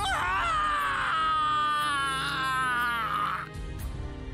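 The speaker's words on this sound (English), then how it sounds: "An inhuman scream escaped from Watase's mouth." In the visual novel Root Double, the character Watase lets out a long, agonised, high-pitched scream as his hair and skin burn. It is loud and sustained for over three seconds, then cuts off abruptly.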